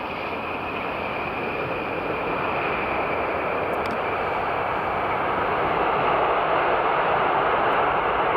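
A BA CityFlyer airliner at Edinburgh Airport gives a steady, loud, broadband jet roar that holds evenly for the whole stretch and swells slightly toward the end, with no voices.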